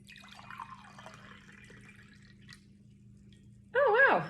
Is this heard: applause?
no